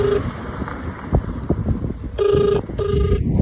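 A phone ringtone sounds twice in short repeated bursts near the end, preceded by outdoor rustling and wind noise; the call goes unanswered.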